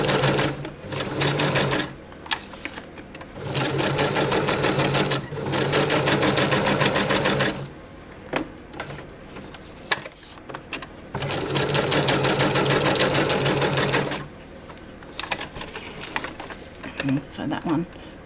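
Sewing machine stitching fabric scraps for journaling spots, running in loud, steady bursts of rapid needle chatter several seconds long, separated by pauses filled with handling noises and brief clicks.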